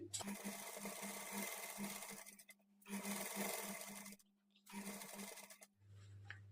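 A sewing machine stitches double seams on pleated sleeves, running in three steady bursts of rapid mechanical whirring with brief pauses between, close and fairly loud throughout.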